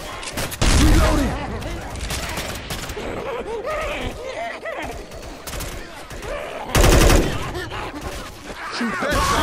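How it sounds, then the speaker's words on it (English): Gunfire at zombies in Left 4 Dead 2 rattles in dense, loud bursts and scattered shots with impacts, while players talk and shout over the shooting. "Shoot that zombie in the back."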